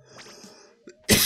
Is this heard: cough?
yes